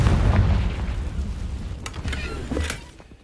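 A Confringo fire spell explodes in Hogwarts Legacy, a deep booming blast that rumbles and slowly decays, with a few sharp crackling bursts near the end.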